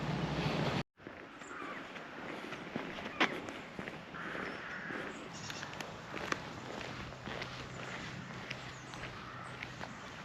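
Footsteps on a road in Hope Valley fall in a steady walking rhythm, close to the microphone, under wind noise and outdoor ambience.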